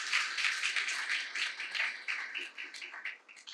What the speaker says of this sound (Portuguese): Eu pediria a todos um aplauso